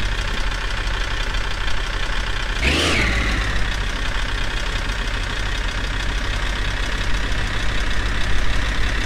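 In a car-for-sale simulator game, a large car's engine runs steadily off-road as a continuous broadband rumble with a brief surge partway through, and no talk.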